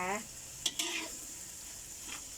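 Stink beans (sator) and fresh shrimp are stir-fried in a pan, a brief close sizzle with a clatter of utensil against the pan and a moment of stirring, quieter hiss after, with a faint voice at the start.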